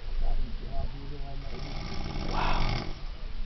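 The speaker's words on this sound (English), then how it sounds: "sleeping peacefully while others suffer from his snoring." A sleeping man snores, a deep raspy breath swelling near the end, while a voice talks over the first part.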